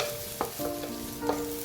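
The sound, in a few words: leeks being sautéed with carrots, ginger, garlic and onion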